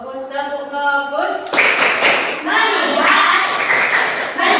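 Children in a classroom doing a rhythmic focus clap, a few sharp claps in quick succession following a spoken prompt, with kids' voices chanting along over the hand claps.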